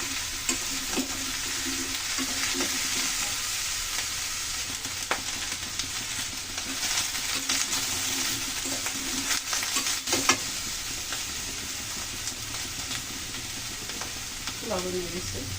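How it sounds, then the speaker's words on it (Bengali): Eggplant chachchari frying with green chilies and coconut in a pan, a steady bright sizzle broken by occasional scraping stirs and a sharper clack near the end, close and without talk. "ভালো করে ভেজে নেব, ভালো করে ভেজে নিই।"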